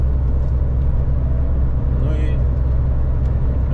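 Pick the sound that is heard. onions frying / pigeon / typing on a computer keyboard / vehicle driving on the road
vehicle driving on the road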